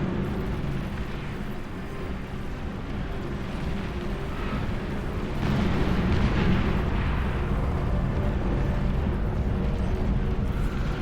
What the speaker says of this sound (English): big explosion down there. I think that was a juggernaut going down.